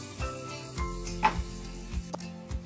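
Stuffed pointed gourd (parwal) is stirred in a pan over a soft, steady sizzle, with several low scraping strokes and one bright clink of the utensil against the pan.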